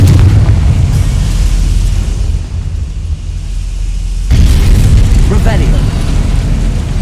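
Confringo fire spell explosion in Hogwarts Legacy, a loud, dense, roaring blast that fills the clip, dipping slightly in the middle before a renewed surge near the end.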